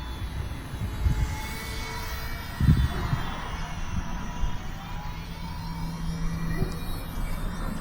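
A ParkZone Ultra Micro Spitfire Mk IX radio-controlled plane flies outdoors, its small electric motor whining thinly and fairly faintly as it passes, with some wind and handling bumps near the mic.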